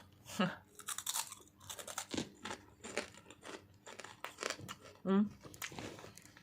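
Crunchy vegetable chips with mushroom and long beans being chewed close up, repeated crisp bites and crunches in uneven bursts, with a person talking in between.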